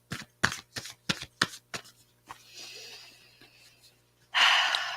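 Tarot or oracle cards are shuffled in several quick riffling bursts, close and crisp, then a soft rustle and a final louder shuffle, with no talking.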